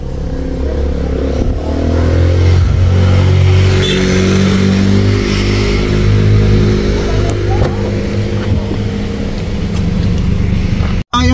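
A car engine idles and revs steadily close by for the whole stretch, a low rumble with shifting harmonics, outside a cemetery in Mabini, Batangas; faint voices sit under it before it cuts off abruptly at the end.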